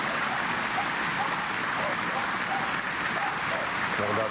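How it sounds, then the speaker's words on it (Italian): As a coffin arrives at a funeral, a crowd gives sustained applause, a dense and continuous wash of clapping that holds steady throughout. "Al suo arrivo il feretro è accolto da un applauso"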